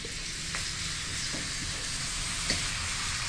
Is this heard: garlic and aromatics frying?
yes